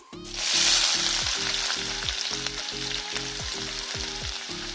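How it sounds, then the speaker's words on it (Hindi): Chopped onion fries in a pan for baingan bharta, producing a loud, steady sizzle that swells early and holds, with faint stirring clatter and no voices. "मैं इसको थोड़ी देर अच्छे से फ्राई भून लूंगी।"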